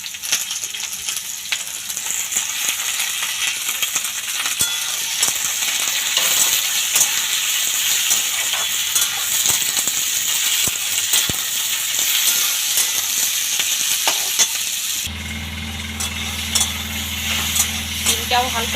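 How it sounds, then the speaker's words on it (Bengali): Bean pieces frying together with pumpkin and potato in a pan, giving a steady, loud sizzle with stirring scrapes throughout; a low hum enters near the end. "এর মধ্যে আমি সিমের টুকরোগুলো দিয়ে ভেজে নেব।"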